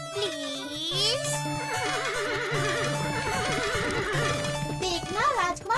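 A cartoon horse lets out several loud, wavering neighs and whinnies over a musical background, with a voice speaking alongside.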